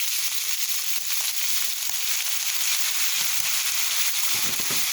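Pork sizzles and spits in a hot pan during simple home cooking, a dense, steady frying hiss with small crackles running loud and close for the whole stretch, with no talking.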